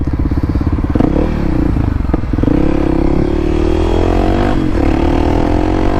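A Honda Grom motorcycle ridden along, its small engine a loud, steady harmonic drone with short pitch dips and rises as the throttle shifts, plus wind and clatter.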